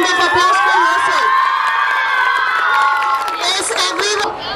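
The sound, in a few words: round of applause and cheering at school sports day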